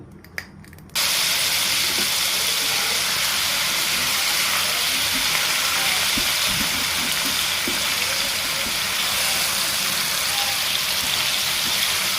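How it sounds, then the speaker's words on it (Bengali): Small mola fish drop into hot oil: after a brief quiet moment a loud, dense sizzle bursts in and keeps roaring steadily, close and bright, with faint crackles through it. "তেল গরম হয়ে গিয়েছে এখন মাছগুলো দিয়ে দেবো"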